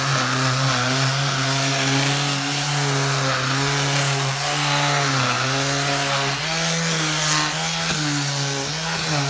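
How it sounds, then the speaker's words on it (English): A Ryobi cordless electric sander runs steadily against a wooden table being refinished into a farmhouse style, a loud continuous motor whine with pitch shifting slightly as pressure changes, close and without talk. "This is a Ryobi sander."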